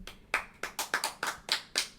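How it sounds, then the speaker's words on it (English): Studio applause from a small audience at a barbecue judging show, heard as about seven sharp, evenly spaced claps, close and moderately loud with no talking. "That's a real in-house applause for tuning in and listening."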